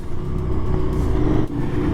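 Deep, throaty engine burble of a KTM Super Duke R with an SC-Project GP22 aftermarket exhaust idling and blipping, a rough low rumble with a brief dip near the end.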